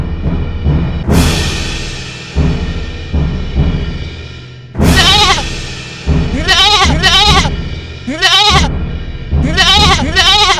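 A goat bleats loudly and repeatedly in wavering cries, close by, over a rumbling background as the animal is carried off, with no talk.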